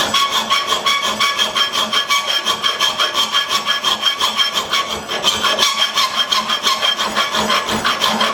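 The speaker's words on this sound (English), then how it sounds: "And I'll refine that with some drum sanders." A drum sander works the curve of a handmade knife blade, giving a steady rhythmic rasping and grinding, close and continuous for several seconds with no talk.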